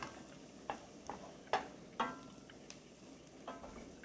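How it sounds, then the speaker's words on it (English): A fork whisks seasoning with fresh black pepper in a bowl, giving a few sharp, separate clinks and scrapes that are quiet and spaced irregularly, with no talking. "I'm gonna give this a quick whisk with a fork."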